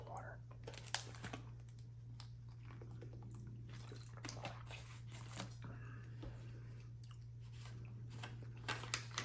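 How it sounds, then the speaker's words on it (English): Hard candy being sucked and crunched up close in a whispered ASMR session with a puzzle book, scattered sharp clicks and crunches at an irregular pace, quiet and intimate, with faint whispering at times. "let me get another hard candy here"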